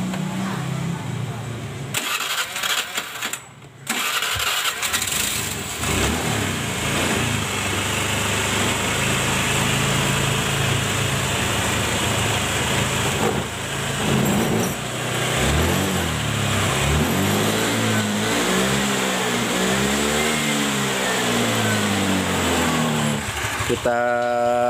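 A carburetted Honda Vario Techno scooter engine is started and then revved repeatedly, its pitch rising and falling in waves while running steadily close by, with some talk over the engine noise.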